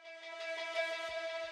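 A reversed ambient synth shot for a melodic drum and bass intro, treated with ping pong delay and reverb, swelling softly and then trailing into a fading echoing tail instead of stopping dead, heard alone.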